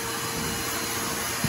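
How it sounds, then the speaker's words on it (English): A vacuum cleaner runs with a steady, close, hissing suction roar while pulling a yellow jacket nest from under a floor, unchanging across the short stretch with no talk. "Vacuum, vacuum, vacuum, my friend."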